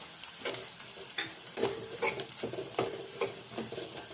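A mixture of fried onion and coconut paste for a moong dal curry, stirred in a pan: a soft sizzle under repeated scraping strokes, close and fairly quiet, with no talking.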